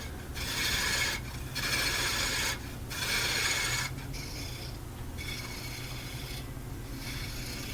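A solid wood piece spins on a woodturning lathe while a tool cuts and shapes it, giving bursts of harsh scraping over a steady mechanical hum, the cuts stopping and starting several times.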